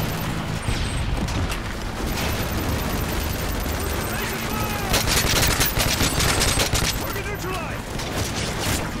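Gunfire in Call of Duty: Modern Warfare 3 crackles in dense automatic bursts, rapid and loud, building into heavier volleys in the second half, with battlefield noise and a voice briefly underneath.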